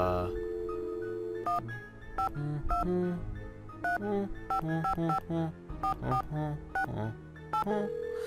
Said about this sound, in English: Why don't we call on the phone to,